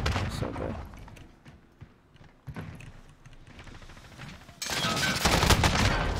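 Rapid bursts of MP7 submachine gun fire in a video game, sharp cracking shots clustered near the start and mid-clip, then a louder sustained burst of gunfire closing out the moment.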